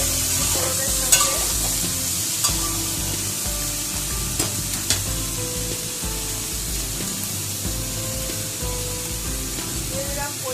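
Tamarind being stirred into a spice tempering in a pan for a sour Bengali home-style dish, with a steady close sizzle and scattered scraping clicks of the spoon throughout.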